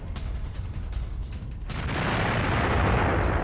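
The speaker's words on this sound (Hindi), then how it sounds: "यूक्रेनी सेना पर आर्टिलरी से अटैक किया गया।" Artillery explosions strike a house sheltering Ukrainian soldiers in Kharkiv: a series of dull booming thuds, then a heavy sustained roar of blast and debris swelling and filling the background.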